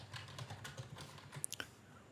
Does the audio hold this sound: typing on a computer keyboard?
yes